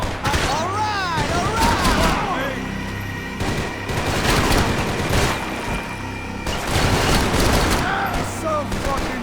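Heavy gunfire in the Max Payne 3 video game comes as dense bursts of rapid shots and booms. The shooting rises and falls across several seconds, with shouting voices mixed in among the shots.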